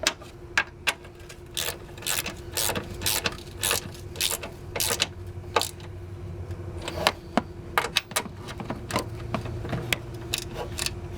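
A bolt on a coil spring assembly of a 2002 Honda Civic Si being tightened, heard as a close, steady run of sharp metallic ratchet clicks with short pauses, alone without talk.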